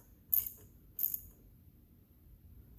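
A ratchet tightening a clamp on an air intake pipe of a Can-Am Ryker 900 Rally, heard as two brief bursts of crisp clicking, close and fairly quiet, with a pause between them and no talking.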